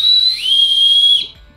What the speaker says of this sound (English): Having a whistle